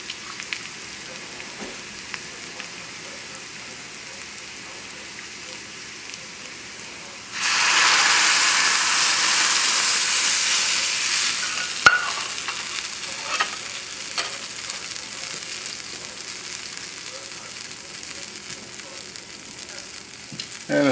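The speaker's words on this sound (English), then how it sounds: "So we're going to put in the fish stock" Fish stock goes into a hot pan for a stuffed lemon sole dish, setting off a loud, steady sizzle that lasts several seconds and then fades into softer bubbling, with stirring scrapes and occasional clinks.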